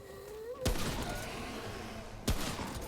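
Two sharp, loud gunshot cracks from the video game Remnant: From the Ashes, one early and one near the end, set over a steady din of game ambience and music.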